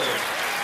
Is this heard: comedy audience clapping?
yes